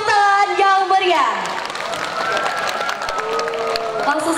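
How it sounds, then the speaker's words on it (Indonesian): A school audience at a Maulid Nabi celebration applauds the winners of a preaching competition, a scattered crowd clapping under a loud sustained sung or amplified voice and music. "Tepuk tangan yang meriah."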